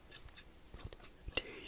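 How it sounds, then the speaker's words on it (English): Crisp, close scissors snips in an ASMR haircut roleplay, several quick cuts in uneven rhythm over a quiet background. "scissors on you"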